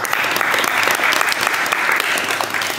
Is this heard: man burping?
no